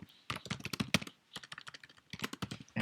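Commands are typed on a computer keyboard at close range, with quick clattering keystrokes running in two bursts split by a short pause, and no speech over them.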